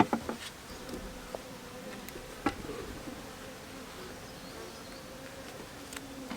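Saskatraz honey bees hum steadily at an opened hive during a first-time beekeeper's inspection, a low continuous drone with a few louder bees passing close and soft handling taps.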